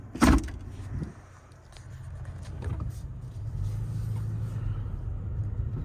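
A 2022 Toyota Tacoma TRD Sport pickup pulling away on the road, a sharp thump at the start, then a low engine rumble building into a steady cabin drone.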